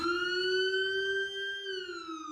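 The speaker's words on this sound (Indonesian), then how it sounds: "yang paling bikin orang minggir tuh suara sirin" A police escort car's siren sounds loud and close, holding one steady electronic wail tone that dips slightly near the end, with no voices.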